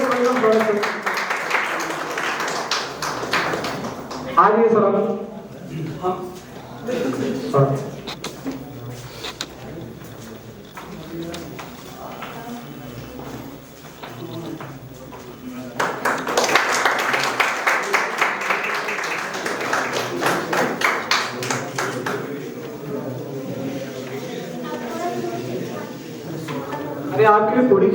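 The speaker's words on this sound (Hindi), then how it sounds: "जोरदार ताली बजाएं" An audience at a stage programme breaks into loud, sustained clapping in two bursts, a dense crackle of many hands with a host speaking between and over it.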